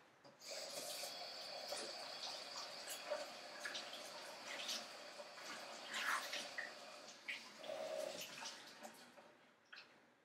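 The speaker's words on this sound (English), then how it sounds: "I'll kind of run some hot water and get it absorbed with a lot of hot water" Hot water runs from a faucet onto an EnduraCool cooling towel, making a continuous soft splashing stream with scattered drips and small bursts. It is fairly quiet and close, with no talking.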